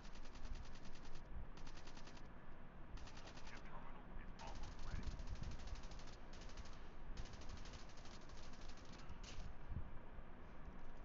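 Rapid bursts of automatic gunfire in a Call of Duty battle royale match, repeated rattling volleys separated by short gaps, fairly quiet overall.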